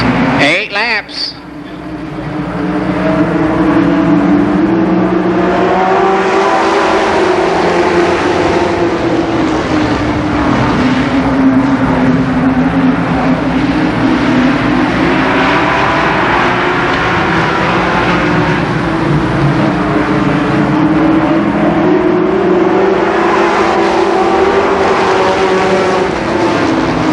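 Race cars lap Columbus Motor Speedway in 1990, a loud, continuous engine drone rising and falling as the field circles the track, with an announcer talking over it.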